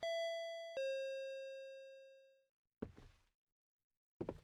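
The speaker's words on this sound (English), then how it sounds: "Is that his doorbell?" A two-tone ding-dong doorbell chimes in a PC horror game, a clear electronic bell whose second note rings out and decays over about two seconds, followed by two short muffled knocks or thuds.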